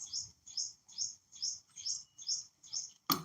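Small blackbirds chirp in a steady series of seven evenly spaced, bright chirps at close range, ending in a sharp click-like knock.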